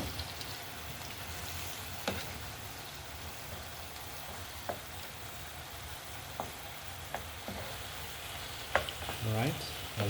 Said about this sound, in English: just keep stirring it as we let it continue boiling